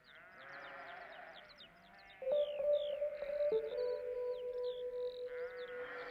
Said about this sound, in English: Now we hear the sheep in the background.